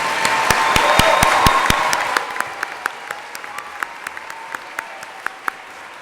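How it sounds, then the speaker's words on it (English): A large audience at a university graduate commencement claps loudly and densely for about two seconds, and the applause then thins into scattered, fading individual claps. "Let's have one more round of applause,"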